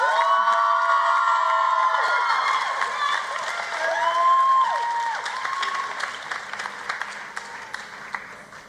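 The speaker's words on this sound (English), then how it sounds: "Let's please have a round of applause for Anjali Philip." An audience at an arangetram dance debut breaks into loud applause and cheering for the performer, with whoops and children's shouts over sustained clapping that slowly tapers off.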